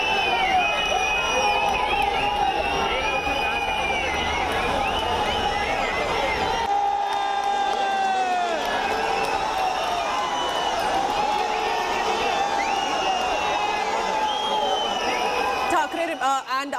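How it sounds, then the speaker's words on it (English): Shiv Sena supporters cheer for Aditya and Uddhav Thackeray in a large, loud crowd, with sustained shouting, whoops and chanting voices filling the air continuously, dipping briefly before surging again. "get the best sound of how the supporters are cheering for Aditya Thackeray and Uddhav Thackeray"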